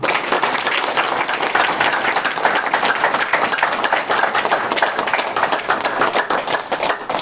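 A lecture audience breaks into steady, loud applause that fills the room with dense, continuous clapping from start to finish, with no talk over it.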